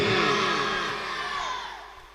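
A large crowd at an outdoor religious gathering roars back a slogan together, a dense burst of massed voices and cheering that is loud at first and then slowly tapers off.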